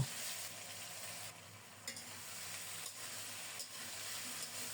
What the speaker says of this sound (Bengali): ফোড়নটা রেডি হলে মুখি কচুটা ছেঁকে ছেঁকে দিয়ে দেব